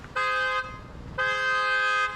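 Two long, steady electronic horn or alarm tones, each holding for roughly half a second to a second with a short gap between them, sounding fairly loud and close against a faint background of street noise.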